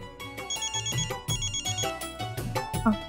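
A telephone ringtone plays in a domestic drama scene, a repeating electronic melody in short bursts over a background music score, fairly loud and close with no talk.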